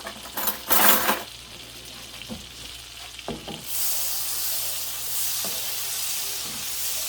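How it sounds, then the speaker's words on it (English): Shrimp dropped into a hot pan, a few clinks of a spoon and pan at first, then a sudden loud hissing sizzle that swells and holds steady to the end. "So now we're going to add our shrimp."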